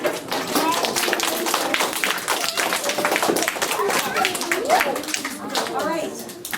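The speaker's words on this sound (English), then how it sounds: "And we're going to applaud them for what they did." Audience applause for a school class play, a dense, steady patter of many hands clapping, with children's voices and adult talk mixed in.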